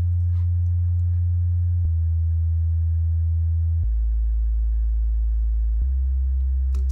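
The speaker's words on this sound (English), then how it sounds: "the bass line, I just played the bottom end of the chords, just a really simple, deep sounding bass." A simple, deep synth bass made with the 3x Oscillator plugin in FL Studio, playing the low roots of indie pop chords as a few long sustained notes that step to a new pitch about every two seconds, steady and alone.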